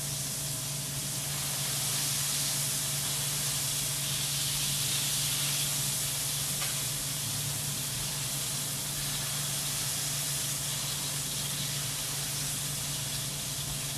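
A burger patty sizzles steadily in a hot pan, a dense, even hiss that holds at the same level throughout with no voices.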